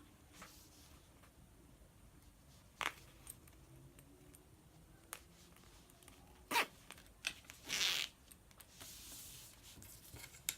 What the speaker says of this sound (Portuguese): Vou adicionar o cursor ao zíper.